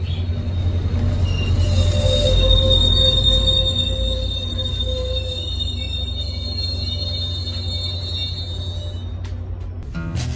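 Loud, steady rumble of a train ride to a train show, carried by sustained high metallic wheel squeal that holds for most of the ride before easing near the end, with no voices.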